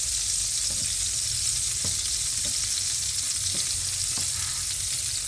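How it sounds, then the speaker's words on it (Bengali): Shrimp fry in a pan with a steady, close crackling sizzle, broken by a few soft, regular stirring taps. "চিংড়ি মাছটা আর একটু ভাজবো, তারপর উঠিয়ে ফেলবো।"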